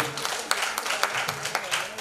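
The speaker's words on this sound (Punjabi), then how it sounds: "ਤਾਲੀਆਂ ਮਾਰੋ ਉਸਤਾਦ ਜੀ" Audience applause for a singer at a Mrs Punjab beauty pageant audition in Jalandhar, dense and continuous clapping from a crowd with a few sharper claps standing out.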